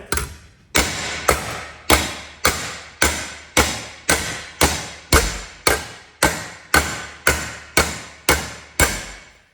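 Steady, evenly spaced hammer blows on a Mazda MX5 Mk1 steel body panel, tapping creases out during rust repair; about sixteen sharp metallic strikes with ringing decay, close and loud, no talking.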